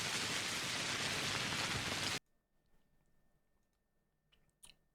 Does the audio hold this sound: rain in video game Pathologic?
yes